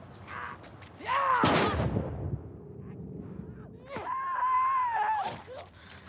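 A thrown bomb goes off in The Last of Us Part II during a fight with stalkers in the Seattle sewers, a single booming blast that rumbles away, with game creature groans and a player talking around it.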